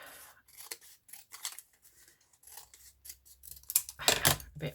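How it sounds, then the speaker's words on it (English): Scissors snip and trim a piece of glued paper on a journal page, several quick close cuts in irregular bursts with quiet pauses between, the last snips louder and crisper. "It's a good job it's glue stick because I can cut it and pull it about. I'm going to trim that down."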